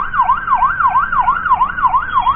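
An ambulance siren wails in a rapid, regular yelp pattern, loud and close, cycling about three times a second while escorting through traffic, with a low road rumble beneath.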